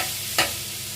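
Continuous close sizzle of chicken liver and gizzard frying in a pan, with one brief stirring scrape partway through.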